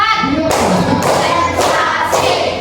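A classroom of students claps together in a counted rhythm, loud group claps landing in a steady beat about twice a second, with a voice faintly underneath.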